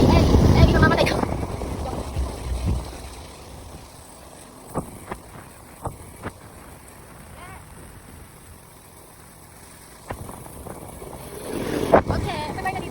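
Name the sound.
strong wind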